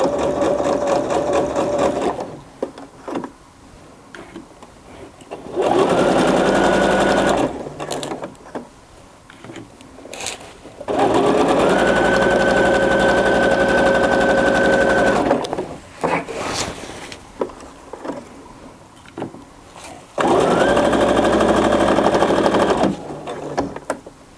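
A sewing machine stitches forward and back on regalia, in three loud bursts of whirring mechanical running close by, each separated by quieter pauses with handling noises.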